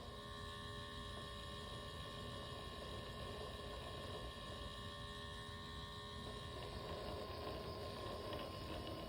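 A small tabletop pottery wheel spins steadily while miniature porcelain pots are thrown, giving a constant mechanical whir with faint gear-like rattling throughout, close and unchanging.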